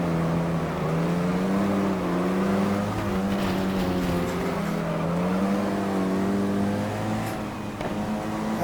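Race car engine in GT Legends revving hard and steadily, its pitch wavering and dipping where a shift into first gear is missed, with faint tire noise, loud and continuous throughout.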